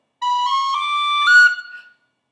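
Tin whistle playing a short slurred phrase from the Irish air The Rose in the Heather: a few clear, bright, sustained notes stepping upward, played close and alone before trailing off.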